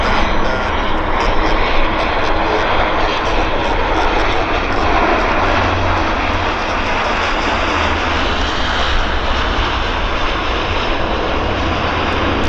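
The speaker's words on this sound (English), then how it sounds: "Bit of a long landing, I'd say." A steady, loud, broadband engine roar from an airliner landing and rolling out on the runway at Vancouver YVR airport. It is heard continuously from fairly close with no voices over it.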